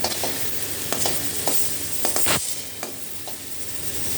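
Water spinach (kalmi greens) frying in a pan after wilting in its own released water, a steady soft sizzle with occasional stirring scrapes and clicks, close and continuous with no talk.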